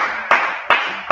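A church congregation applauding, heard as three sharp, evenly spaced claps close to the microphone.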